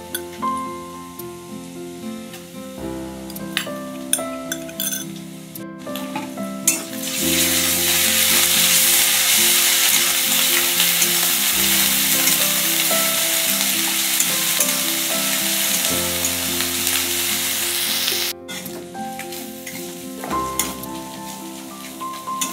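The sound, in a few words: onion, garlic and ginger-garlic paste frying in pan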